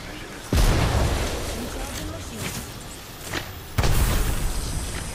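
Two deep booming grenade blasts go off in a Counter-Strike match on Mirage, the first loud and close, the second a few seconds later equally heavy, with rumbling decay between and a player's voice talking over them.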